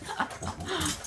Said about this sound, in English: You sound so vicious, little dog.